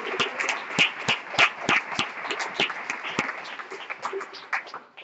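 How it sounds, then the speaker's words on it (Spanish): Church congregation claps with sharp, distinct hand claps in a loose, uneven rhythm, close and fairly loud, gradually thinning toward the end, with no talking on top. "aplausos a su Dios"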